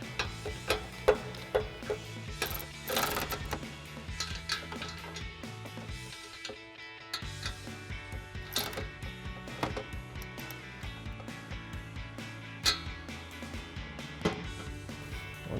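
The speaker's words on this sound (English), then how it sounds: "we're going to grab our 14mm swivel socket and get our 2 carriage bolt and flange" Carriage bolts and flange nuts on a 2021-2023 Ford Bronco 4-door nerf step bar bracket are tightened with a 14mm swivel socket ratchet, producing faint, fairly steady ticking clicks with a few louder knocks, close up and free of talk.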